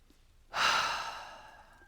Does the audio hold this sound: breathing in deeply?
yes